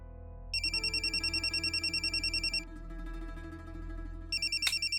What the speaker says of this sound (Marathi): मॅडम, तुमचा फोन वाजतो आहे.